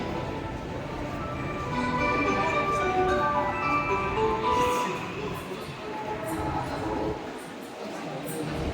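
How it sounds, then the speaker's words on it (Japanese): An Osaka Metro Chuo Line train rumbles and hums as it pulls into a station, with a steady mechanical drone and a public-address voice announcing over it. "1番線に到着の電車は谷町4丁目方面長田駅です。"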